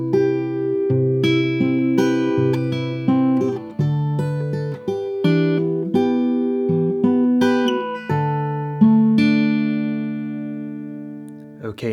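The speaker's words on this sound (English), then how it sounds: "I'm going to perform sections 1 and 2 together." Sections one and two of a song played on acoustic guitar, a steady run of strummed chords and picked notes for about twelve seconds, close and clear, with no talking over the playing.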